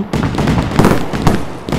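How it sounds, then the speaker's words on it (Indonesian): Firecrackers going off in the video game Fireworks Mania, loud sharp bursts with crackling tails, a few distinct blasts in quick succession. "Bikin petasan seperti ini."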